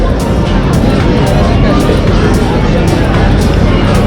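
People bustle along Nizami Street in Baku on a busy Monday, a dense and loud wash of crowd noise and overlapping distant chatter that holds steady the whole time.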